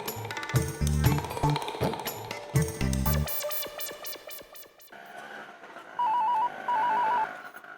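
A telephone rings in two short trilling bursts near the end, following a stretch of clattering, chiming musical sounds.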